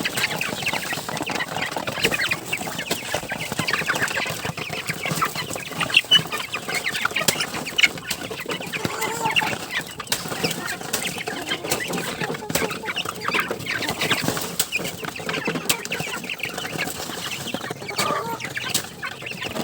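Native chickens cluck continuously in and around a coop on a small farm, a dense overlapping chorus of nearby hens with occasional louder calls and no talking.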